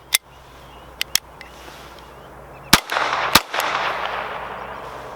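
A GSG Firefly .22 semi-auto pistol fires in sharp, close cracks: two quick shots, a pause, then more reports followed by a rushing noise between them.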